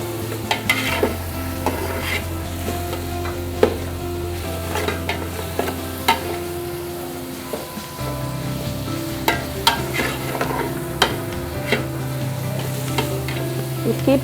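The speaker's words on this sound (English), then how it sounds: "So you keep stirring so that it won't stick to the bottom of the pot." Beef browns in a pot over heat, sizzling steadily while a spoon stirs and scrapes the bottom in repeated sharp knocks, close and loud throughout.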